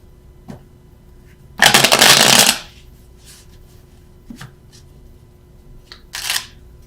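Tarot cards riffled and shuffled for clarifier pulls: one dense burst of shuffling near the start, then a few light card taps and slides, and a short final flurry, all close and with no talk.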